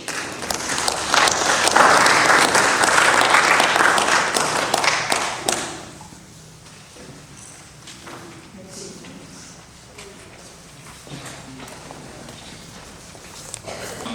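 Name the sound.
applause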